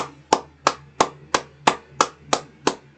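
Nine sharp, evenly spaced hand claps at a steady slow tempo, close and crisp, with nothing else audible.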